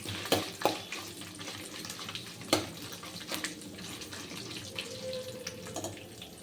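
Dried red chillies frying in a pan give a steady, faint sizzle and crackle, with a few sharp clinks from stirring, and no talking.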